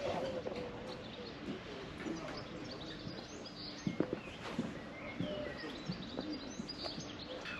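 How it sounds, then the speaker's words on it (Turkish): Birds chirping and calling outdoors in Venice, with scattered tweets and faint cooing over a steady ambient background, plus a few brief nearby knocks or footsteps. "Kuşlar, böcekler."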